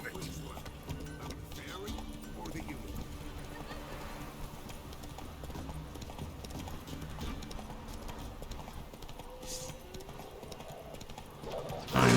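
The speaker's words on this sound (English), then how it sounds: "Let's actually take a horse." Hooves clip-clop steadily as a horse gallops in The Witcher 3, running continuously at moderate level under game ambience, with a louder burst at the very end.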